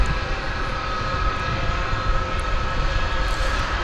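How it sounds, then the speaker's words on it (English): Engines of a UPS Airbus A300 freighter at DFW Airport give a steady, broad roar that holds at an even level throughout, with no voices. "we're looking at UPS flight 755. It's an Airbus A300 freighter"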